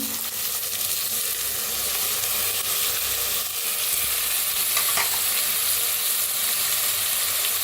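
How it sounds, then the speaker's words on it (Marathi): Soaked beans and lentils, including moth beans and masoor, roast in a pan with a steady, close sizzle and occasional scraping stirs, and no talking. "त्याला मी भाजून घेऊया"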